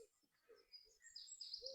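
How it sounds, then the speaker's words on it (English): Faint outdoor birdsong after a night of rain: soft scattered chirps and short whistled notes, distant and quiet, with no talking. "as you can hear, the birds are singing"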